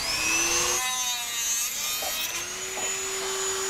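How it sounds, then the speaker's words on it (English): Dremel rotary tool cutting seized screws on a sailboat mast, giving a steady high whine that rises and falls in pitch as it bites into the metal, close and alone. "sometimes it's just time to break out the Dremel."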